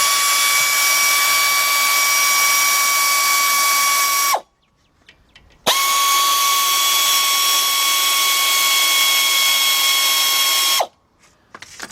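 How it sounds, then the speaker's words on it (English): A 3/8-inch drive air ratchet spins out brake caliper bolts on a 2005 Chevy Suburban, giving a loud, close, steady high whine in two long runs of several seconds each, split by a brief pause. "Get my 3/8 drive air ratchet."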